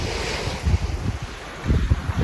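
Sea waves washing ashore on a foggy day at the Black Sea coast in Chornomorsk, with gusty wind buffeting the microphone in uneven surges over a steady background rush.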